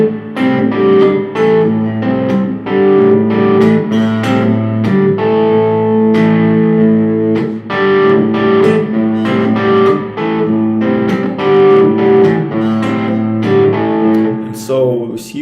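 Clean electric guitar picking a fingerstyle pattern with syncopated bass notes under melody notes, loud and close, in a steady rhythmic groove with light effects.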